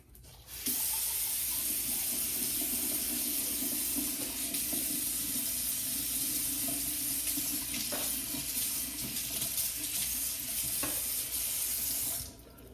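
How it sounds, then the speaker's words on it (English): A faucet runs steadily at a bathroom sink for about twelve seconds with bright, hissing water flow, while a hard-bristle toothbrush scrubs teeth, its faint scratching mostly masked by the water before it stops abruptly. "now that I've brushed my teeth, they are nice and bright"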